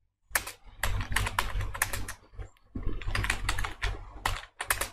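Rapid typing on a computer keyboard while writing program code: dense bursts of close, crisp key clicks in uneven runs, pausing briefly near the middle before resuming.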